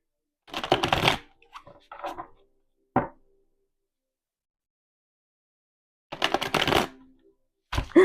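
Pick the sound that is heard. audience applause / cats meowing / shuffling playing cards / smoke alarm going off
shuffling playing cards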